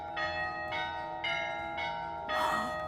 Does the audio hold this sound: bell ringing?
yes